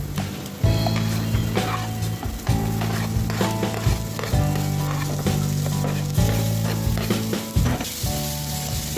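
Carrot, bean and tomato pieces hit a hot pan of egg fried rice, giving a loud, constant sizzle under repeated rhythmic scraping and stirring, with no voices.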